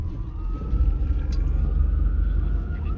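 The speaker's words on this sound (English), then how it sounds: "you hear all the sirens behind us?" Emergency vehicle sirens wail faintly in the distance, a thin rising tone heard over a heavy low rumble of traffic or engine noise.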